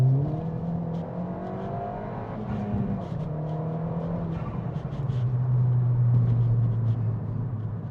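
Modified Ford Fiesta ST180 with a TRS Stage 2 tune accelerating hard, engine note climbing in pitch through successive gears with a brief drop between them, heard from inside the car over steady road noise.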